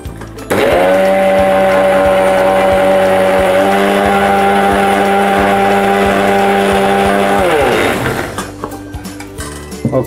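A mixer grinder grinds ragi with a loud, steady motor whine for about seven seconds, then winds down and stops, followed by faint clatter.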